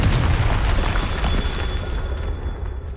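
A Confringo fire spell explodes in the Hogwarts Legacy video game, a loud, deep booming burst that decays over about three seconds.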